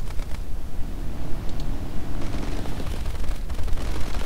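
Tank cannon and machine-gun fire from a Cromwell V in War Thunder, a dense, rumbling barrage of shots and booms running continuously under game noise, with no talk.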